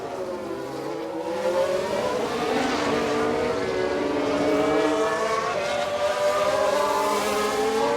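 Race car engines in F1 Manager 22 during an Aston Martin overtake, several high-pitched engine tones rising and overlapping as the cars draw close. The engines swell louder and hold steady with no speech.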